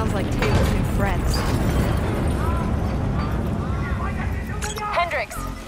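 Explosions rip across a facility in the Call of Duty Black Ops 3 video game as a loud, dense roar of blasts and rumbling debris. Game characters talk urgently over the chaos.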